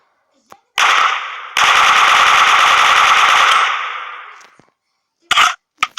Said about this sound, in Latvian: Tagad mums būs labs ierocis kā double gun.